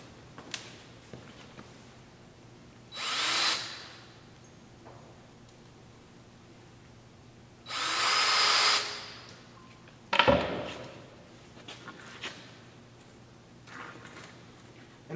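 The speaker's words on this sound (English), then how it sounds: "So I'm going to start running some screws through these pieces" Power drill driving screws through plywood strapping on a concrete slab form, in two bursts of whirring a few seconds apart followed by a thump and light handling knocks in a quiet space.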